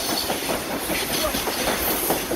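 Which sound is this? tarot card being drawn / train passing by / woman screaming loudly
train passing by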